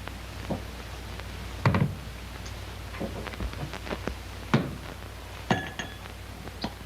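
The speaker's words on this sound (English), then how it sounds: "you take your glass up like this and you start pouring the whiskey" A glass and a whiskey bottle clink with a few sharp, ringing taps scattered over several seconds against a low steady hum, with no talk.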